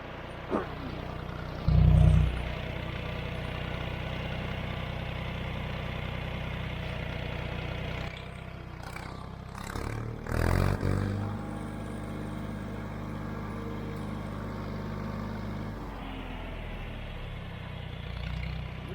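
A green tractor engine runs steadily on a test drive, a continuous low rumbling drone. A loud thump lands near the start, the tone shifts partway through, and a few heavier bursts follow, with no talking.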